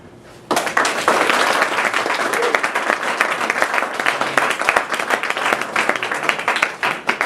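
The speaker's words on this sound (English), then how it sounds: "all three presenters would love to hear another round of applause" Applause from a crowd breaks out suddenly and continues as dense, steady clapping, fairly loud and close, without talking over it.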